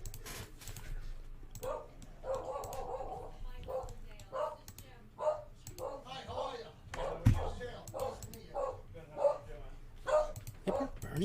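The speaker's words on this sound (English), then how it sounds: "And the dog's still like doing dog thing." A dog barks and yips in a string of short, sharp bursts indoors, moderately close, with occasional whimpers and faint background noise between barks.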